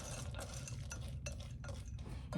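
A spoon scrapes and clinks around a bowl, stirring a thick, unmelted peanut butter and chocolate mixture for no-bake pretzel bars, with soft, steady scraping and a louder clink at the end.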